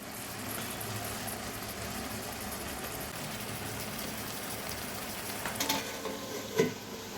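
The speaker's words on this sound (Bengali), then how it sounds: "বারবার অল্প অল্প করে গরম জল অ্যাড করে আমরা মাটনটাকে খুব ভালো করে কষাতে থাকব।" Mutton sautéing in a pan for a Bengali mutton kosha curry, stirred while small splashes of hot water are added: a steady, fairly loud sizzling hiss with soft scraping throughout and a brief clatter near the end, with no talking.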